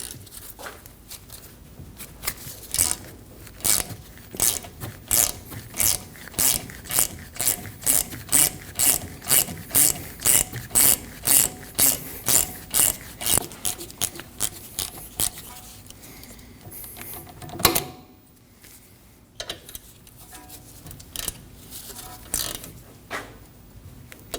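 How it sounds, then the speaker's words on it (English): Brake caliper slide pins on a rear brake of a 2015-2024 Ford Edge being loosened with a 7mm Allen tool, giving a steady run of rapid ratchet clicks in evenly spaced bursts, close and clear, pausing briefly before resuming. "We can remove the slide pins of the caliper using a 7mm Allen."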